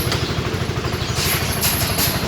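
A Sym GTS 250i scooter engine runs at idle, a steady close-up low thrumming putter with a faint high whine and light mechanical clatter throughout.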